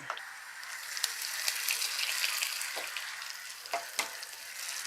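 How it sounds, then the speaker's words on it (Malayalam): Fenugreek, mustard seeds, shallots and curry leaves sizzle in hot oil as a tempering for a Kerala fish curry. The frying is a steady close hiss broken by small pops and stirring clinks. "ഒരു ഇച്ചിരി എണ്ണ ഒഴിച്ചു കൊടുക്കാം ഉലുവ ഇടാം കടുകിടാം"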